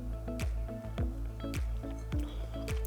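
Kevita ginger kombucha poured into a glass, with repeated glugging pulses from the bottle in a steady rhythm over a close, continuous fizz of bubbles, no talk.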